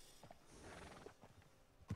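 A horse in Red Dead Redemption 2 stamps and shifts with a few faint hoof thuds, then lets out a short snort or whinny near the end, quiet against a low game ambience.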